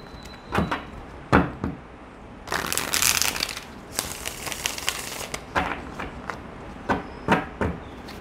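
A deck of tarot cards being shuffled, with sharp card slaps and riffles repeating in an irregular rhythm and one longer dense riffle in the middle, close and clear with no talking.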